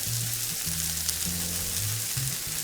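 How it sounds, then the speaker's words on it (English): Onions and sausage fry together in a pan with a steady, broadband sizzle that runs unbroken throughout, while a low tonal hum shifts pitch in the background. "There's something about onions and sausage cooking together."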